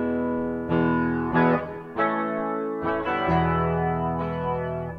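Distorted electric guitar through a Guitar Rig 6 plugin with reverb, several strummed chords ringing out one after another with long washy tails, loud and alone.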